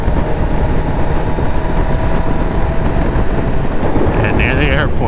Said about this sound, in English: Oh, here's the wind.